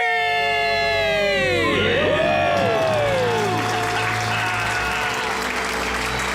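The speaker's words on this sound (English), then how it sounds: "And the crowd goes wild." A crowd at a debt-free celebration event in Minnesota erupts in loud screams and whoops that slide down into sustained, dense applause filling the room for several seconds.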